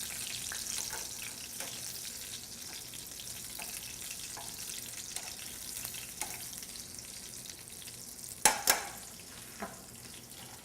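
Meatballs frying in a hot pan on a home stovetop give a steady, soft sizzle throughout. A couple of brief clinks come near the end, and nobody speaks.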